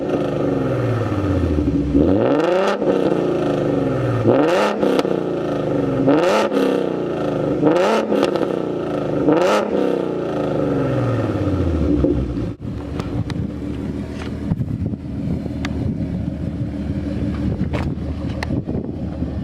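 A Mustang V6 3.7 with BBK long tube headers and Roush axle-back exhaust revs hard in repeated rising and falling bursts, about five close loud pulls, then settles to a rumbling idle with wind buffeting.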